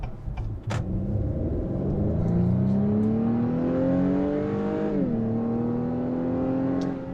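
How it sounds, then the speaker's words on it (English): A 2021 Acura TLX A-Spec sedan with a 272-horsepower engine pulls away and accelerates from inside the cabin, a steady rising engine drone that climbs through gears with a brief shift dip before settling into a constant cruising hum. "Okay, going for a drive in the TLX."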